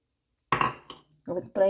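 A spoon beats batter of ragi flour, semolina and grated coconut for appam in a bowl, giving a few close, loud bursts of clinking scraping strokes with short gaps between them.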